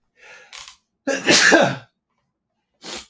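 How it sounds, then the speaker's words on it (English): A loud, sharp sneeze close by, bracketed by short breathy sounds before and a brief burst after, with quiet gaps between. "Oh my god, they sneeze."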